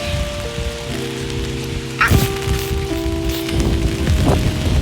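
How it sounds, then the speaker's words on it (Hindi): Rain falls steadily around a university campus in Canada, with a broad wash of patter under droning tones and a couple of louder sharp splashes or knocks midway, with no voices. "बारिश हो रही है"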